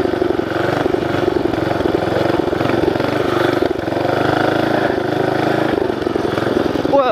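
An 11hp mini bike engine with a 30 series CVT runs hard while riding off-road, a loud continuous close-up drone with slight changes in load and pitch.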